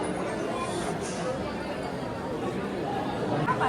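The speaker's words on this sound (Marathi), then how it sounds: "26 जान आहे म्हणून खूप गर्दी आहे." Dense crowd chatter at Babulnath Temple on Republic Day, a steady babble of many voices close around, continuous and fairly loud with no single voice standing out.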